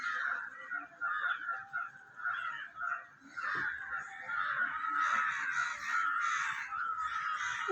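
Several crows caw loudly and repeatedly at close range in a rural Tamil Nadu setting, harsh calls overlapping in irregular bursts with short gaps, and no speech over them.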